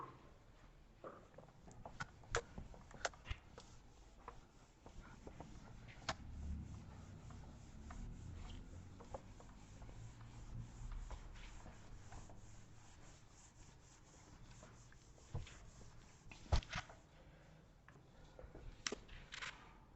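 Pen scratching and rubbing as a note is written by hand, faint close strokes with scattered light taps and knocks, no voice over it.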